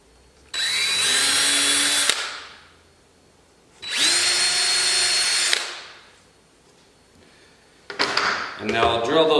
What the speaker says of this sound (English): And now I'll drill those all the way through